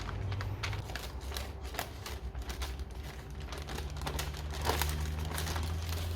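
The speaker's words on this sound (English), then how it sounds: "We're just going to be pulling that off the parchment paper." Pie pastry for a rhubarb and apple pie is peeled off parchment paper, giving close crinkling and rustling of paper with soft scattered crackles and handling noises.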